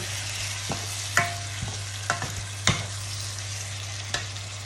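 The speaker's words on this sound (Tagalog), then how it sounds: "halu-haluin lang natin" Squid for mekus mekus being stirred in a hot pan, a soft continuous sizzle broken by several sharp scrapes and taps of the utensil against the pan at irregular intervals, heard up close without speech.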